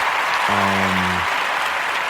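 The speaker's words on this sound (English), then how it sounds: "Round of applause for yourselves." A steady, even round of applause hisses throughout, with a brief low humming tone rising and fading partway through and no voices heard.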